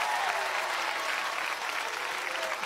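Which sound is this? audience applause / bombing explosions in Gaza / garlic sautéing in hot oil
audience applause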